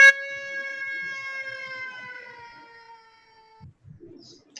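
A baby's long, high wail rises and slowly falls like a siren, one sustained cry lasting several seconds before breaking off into softer whimpers.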